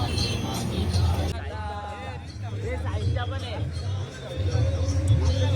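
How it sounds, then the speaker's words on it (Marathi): Large, heavy vehicles roll past a roadside stop, a steady low engine rumble running throughout, with people talking nearby the whole time. "बघा किती मोठ्या गाड्या येतात किराकिराने"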